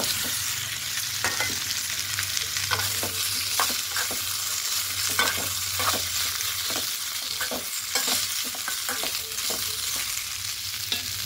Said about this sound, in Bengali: এবার এখানে আলুগুলো দিয়ে দেব।